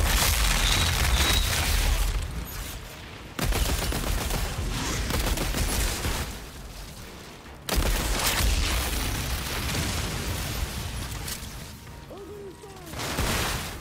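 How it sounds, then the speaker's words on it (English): Explosive ability blasts in the Outriders shooter game, loud dense bursts of booming and crackling in three surges, each fading before the next hits. "this is lining up nicely because the explosion ability we've got is just"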